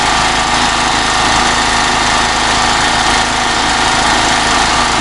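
A REDVERG RD-G3900N petrol generator runs loud and close in a steady, even drone with light mechanical vibration, holding one unbroken tone throughout with no voices.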